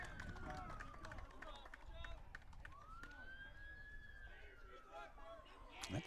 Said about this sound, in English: a lot of sirens going on here all of a sudden